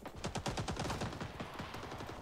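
A machine gun fires from a bunker in a multiplayer video game, rattling off a rapid, steady string of shots at moderate distance, fairly quiet in the mix and alone with no talk.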